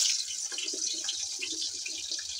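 Spiced, masala-coated cauliflower florets slide into hot oil in a home kitchen, giving a steady, loud hiss and crackle of frying that holds evenly from start to finish with no voices.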